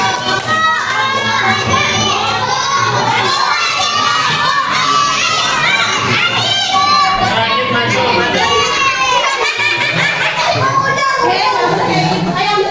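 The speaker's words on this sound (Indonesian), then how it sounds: "tepuk tangan buat Ewa" A classroom of children cheers and shouts loudly for a classmate, a dense continuous crowd of young voices with clapping likely mixed in, sustained throughout without letting up.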